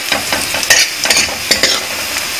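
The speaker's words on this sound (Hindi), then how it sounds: "बस थोड़ा पकाना प्याज को।" Onions frying in a pan for sooji upma, loud close sizzling broken by quick rhythmic scrapes and stirs of a spatula, with no talking.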